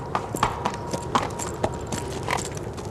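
Quarter horse hooves clip-clopping at a steady walking pace, a string of distinct knocks spaced about a quarter second apart over a hissy, noisy background, moderately close.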